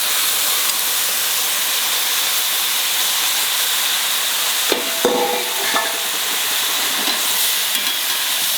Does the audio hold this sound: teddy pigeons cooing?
no